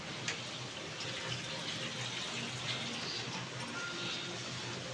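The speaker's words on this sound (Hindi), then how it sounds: "अब इसमें हम थोड़ा सा पानी डाल देंगे ताकि टमाटर थोड़ा सा गल जाए" Water is poured into a pan of tomatoes cooking with bottle gourd in a home kitchen, a steady close gushing splash that runs evenly for the whole stretch.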